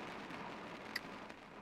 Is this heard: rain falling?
yes